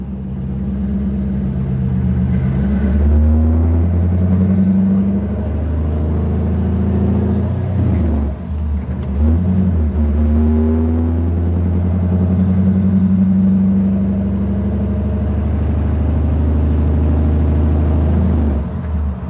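A car engine runs loudly and steadily throughout, with deep rumbling tones and a brief surge in revs near the middle, close and dominant with no clear talk.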